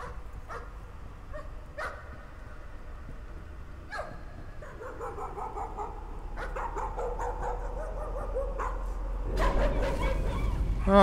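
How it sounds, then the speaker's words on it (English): In the horror video game Layers of Fear, a dog that has been set on fire whimpers and yelps in several short bursts over a low, droning game ambience. "I set the dog on fire."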